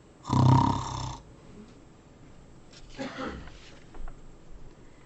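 A voice mimics a bear snoring during a read-aloud children's story, giving one loud, drawn-out rasping snore followed by a softer, breathy second snore.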